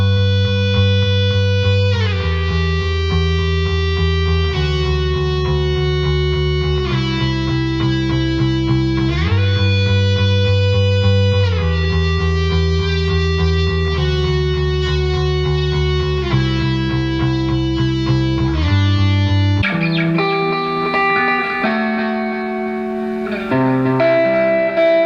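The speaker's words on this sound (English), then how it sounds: "So a little echo around your EBow really does something sweet to the sound" An electric guitar played with an EBow through a Boss DD-3 delay pedal: smooth, sustained bowed-sounding notes step from one held pitch to the next, each trailing echoes, loud and continuous with no talk.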